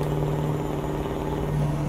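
Volvo VM truck in Euro Truck Simulator 2, with a steady droning engine hum and a low tonal exhaust note, continuous and even throughout, with no distinct crackle pops and no talk.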